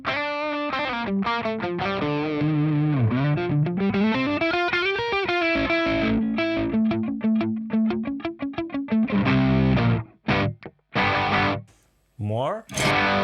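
Distorted electric guitar through Fender Hammertone pedals with the gain raised plays a fast, dense run of saturated notes and chords, then choppier strums near the end, loud and up front.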